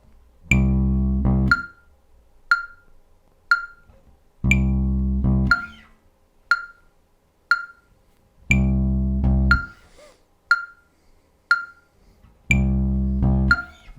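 Sharp metronome clicks mark a funky rhythm, heard alongside repeated low tonal hits that fall in pairs, each click short and crisp against otherwise quiet gaps.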